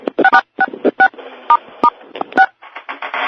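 Telephone keypad tones as star and six are pressed, a quick series of short, loud electronic beeps with brief gaps, heard alone on a phone line.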